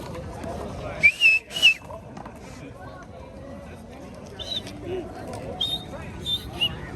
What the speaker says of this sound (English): I can now whistle properly.